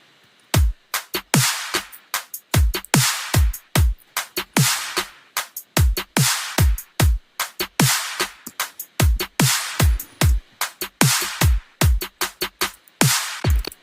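A kick and snare drum beat for a music production plays as a steady, punchy pattern. Deep thumps alternate with bright, crisp snare hits in a tight, repeating groove for about fourteen seconds, with no voices.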